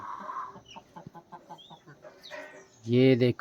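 Hens on a hillside farm in the Nainital mountains cluck in short repeated bursts through the clip, ending in a louder close squawk, while someone speaks briefly over them.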